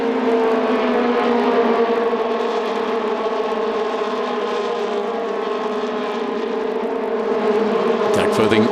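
Formula Renault Eurocup cars of 2017 race down the start-finish straight at the Red Bull Ring. A sustained, high-pitched engine whine holds steady throughout, like a dense pack lapping close by.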